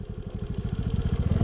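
A motorbike or scooter engine chugging as it climbs uphill near a stupa in Budhanilkantha, a rapid, steady low putter with rhythmic pulses, close and moderately loud.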